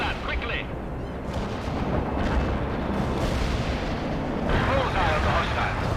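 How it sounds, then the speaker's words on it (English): Cluster bomb strike in the war game World in Conflict, a rolling series of heavy, rumbling explosions with crackling bursts, loud and continuous, mixed with battle noise and radio chatter. "Bullseye on the hostile. Cluster bomb hit right on."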